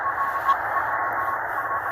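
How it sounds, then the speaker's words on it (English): A steady shortwave radio tone from the RWM time signal station in Moscow, received on 9996 kHz in Colorado, sits in a narrow band over hiss and static, with faint beeps pulsing through it. "RWM time signal from Talda, Moscow."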